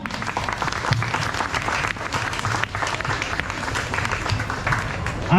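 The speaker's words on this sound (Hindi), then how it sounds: "हमारी टीम के लिए तालियां।" Audience applause for a drama team after a performance, dense and continuous clapping from a crowd lasting several seconds, with faint background chatter mixed in.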